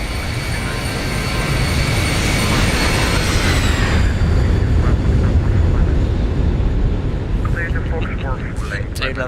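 A Boeing 737 flying past in the X-Plane flight simulator, a loud engine roar with a whining tone that sweeps downward as it passes and then fades, with cockpit speech underneath.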